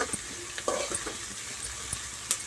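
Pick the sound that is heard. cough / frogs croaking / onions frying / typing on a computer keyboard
onions frying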